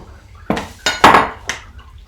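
Wet ingredients mixed into flour for pasta dough, with four distinct knocking and scraping strokes of a utensil against a bowl, close and fairly loud, separated by brief pauses.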